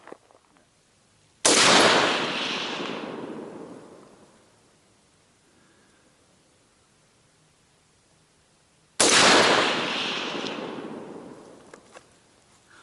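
Two loud rifle shots ring out about seven seconds apart on an outdoor shooting course, each a sharp crack followed by a long rolling echo that fades into quiet.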